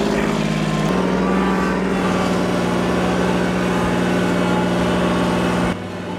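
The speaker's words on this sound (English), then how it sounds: "Hopefully you guys can hear me over the tractor." A tractor engine runs loud and close with a steady, throbbing idle drone, the pitch and rhythm shifting slightly partway through before dropping off near the end.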